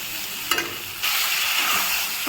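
Cumin and dried red chillies fry in a pan, making a loud, continuous hiss and sizzle with a few scraping stirs, the sizzle swelling louder partway through.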